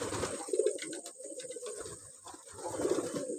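Soft, low cooing from a red-bordered Jalali pigeon chick repeats nearby, swelling and fading in murmuring phrases with faint background noise.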